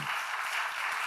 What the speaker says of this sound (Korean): 우리 박수로 한번 감사합니다.